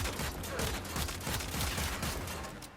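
Rapid bursts of Mara Detron gunfire from the video game Warframe crackle through the clip, repeated shots in quick succession with a steady dense texture, easing off slightly toward the end.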